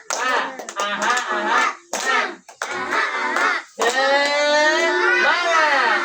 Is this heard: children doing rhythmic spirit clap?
yes